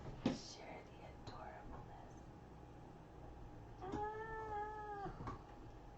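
A cat gives one clear, drawn-out meow near the end amid quiet room sounds, with soft whispered talk before it.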